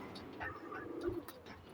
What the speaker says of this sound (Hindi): ये बने हुए कबूतर हैं जी, उधर के नायाब कबूतर हैं